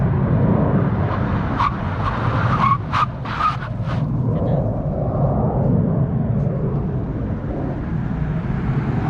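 A 2022 Kia Stinger GT launches hard with launch control, its engine and exhaust roaring loudly and steadily throughout, with a brief tire chirp and squeal in the middle of the run.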